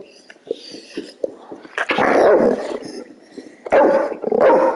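A dog growls and yips, then lets out several loud, close barks in short bursts.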